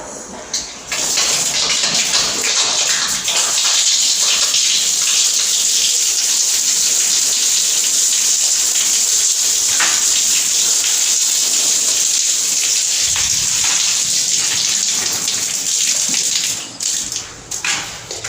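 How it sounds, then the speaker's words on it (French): Water gushing through newly installed shower pipes after a tap is opened at a building site, a loud continuous hissing rush that runs steadily and eases off near the end, with no talking. "c'est une preuve que l'eau passe très bien dans les tuyaux"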